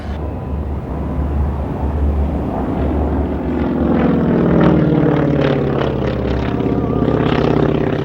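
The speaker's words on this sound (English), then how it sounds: "Let's let the airplane come up to about 160 miles an hour." A propeller fighter plane flying at an airshow, its engine droning loudly and building in pitch and strength as it accelerates past close by, with no voices over it.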